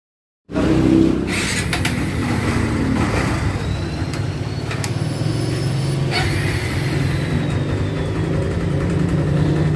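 A 2024 Barako 2 motorcycle engine starts for a test run and then settles into a steady, loud, close idle with a low throbbing rumble and a few faint clicks.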